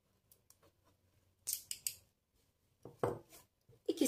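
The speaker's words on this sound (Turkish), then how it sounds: "Bir parça tel kestim." Wire for a crystal-stone crown being snipped with cutters, several short crisp metallic clicks in small clusters, close and fairly quiet against a silent room.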